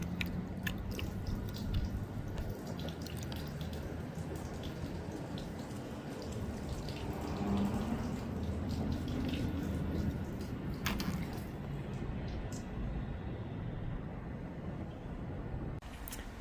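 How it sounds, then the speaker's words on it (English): A cup of water poured onto the right side of a Fisker Ocean windshield drains down through the drain hole, giving soft trickling, gurgling and dripping sounds close by, with a few sharper drips and taps scattered through. "I'm going to demonstrate with a cup of water on the right hand side of the windshield for the drain"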